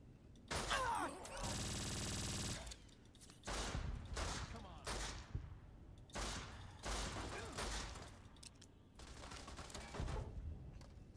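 Bursts of rifle gunfire from a PSG in modded Fallout: New Vegas, with several separate volleys spread across the stretch, one long sustained burst early on, and loud sharp reports over a noisy backdrop.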